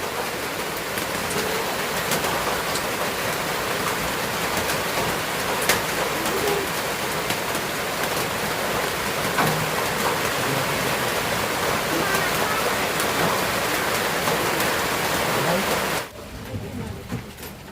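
Steady broadband hiss of rain falling, with birds cooing and chirping over it, ending abruptly near the end to a quieter background.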